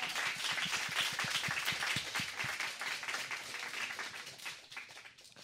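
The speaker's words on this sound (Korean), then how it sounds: "박수 한번 주세요" An audience bursts into applause at a Korean talk show, dense clapping that is loud and sustained before slowly thinning out and fading, with no voices over it.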